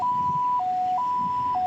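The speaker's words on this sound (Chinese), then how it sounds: "救护车赶紧驶来，" An ambulance siren rushing to a rail accident at Hualien station wails in a steady two-tone alternation, loud and close, with no talking.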